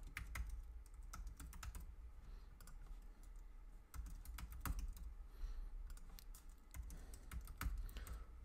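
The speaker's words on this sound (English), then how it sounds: "you can watch me type" Brisk typing on a computer keyboard, a close run of quick, uneven key clicks with short pauses between bursts and no voices.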